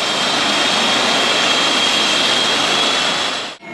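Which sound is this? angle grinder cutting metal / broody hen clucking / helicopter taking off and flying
helicopter taking off and flying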